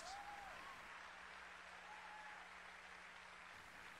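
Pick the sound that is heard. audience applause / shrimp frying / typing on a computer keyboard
audience applause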